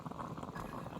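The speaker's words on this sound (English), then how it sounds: "I'll boil some water." Water bubbling at a boil in a video game, a steady continuous churning of small pops and gurgles, fairly close and even in level throughout with no voices over it.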